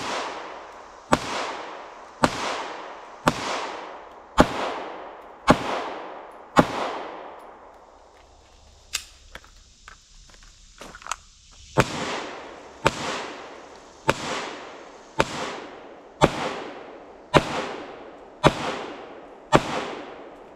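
Gunshots from a handgun at target practice fire one at a time in a steady rhythm, each a loud sharp crack with a short decay, broken by a brief quieter pause about halfway through.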